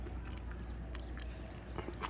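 A few crisp crunches come as someone bites into homemade salted matzah, short sharp snaps close to the listener over a low steady background hum, with no talking.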